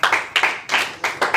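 Audience at a DXN business meeting clapping in a quick burst, several sharp overlapping handclaps repeating in an uneven rhythm, close and loud.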